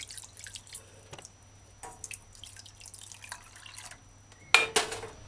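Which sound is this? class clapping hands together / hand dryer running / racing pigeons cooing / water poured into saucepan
water poured into saucepan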